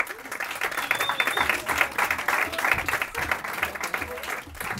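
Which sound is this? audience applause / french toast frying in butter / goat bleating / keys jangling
audience applause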